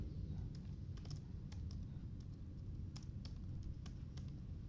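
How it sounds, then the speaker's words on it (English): Rapid, irregular keystrokes on a computer keyboard while playing Duskers, a quiet, close patter of clicks running steadily with no talking. "Wait, why am I typing this wrong?"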